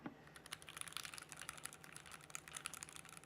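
Keys on a Keychron Q4 custom mechanical keyboard clicking in a quick, uneven run of crisp taps, close and fairly quiet, with no talking.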